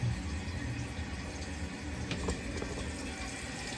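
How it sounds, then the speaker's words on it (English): Water rushes into a toilet tank as it refills after a new flapper is fitted, a steady, faint hiss and gurgle with no talk. "it's going to start to fill the tank back up"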